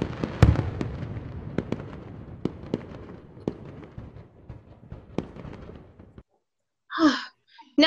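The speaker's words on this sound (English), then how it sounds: "The firework explodes." Fireworks go off in a rapid crackling string of sharp pops and bangs, loud and close, thinning out before falling silent, followed by brief vocal sounds near the end.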